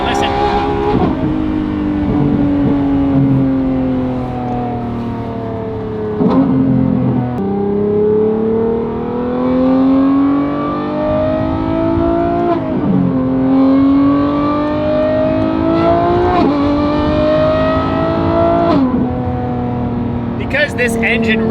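Lamborghini Revuelto fitted with a Valvetronic Designs race exhaust, its engine revving repeatedly in long rising high-pitched sweeps, loud and close, with brief drops between pulls.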